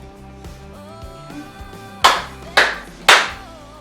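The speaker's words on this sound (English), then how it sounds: "I'll let you go ahead and clap us in." Three sharp, loud hand claps in even rhythm, close by in a home kitchen, sounding over a faint background tone just before a cooking demonstration begins.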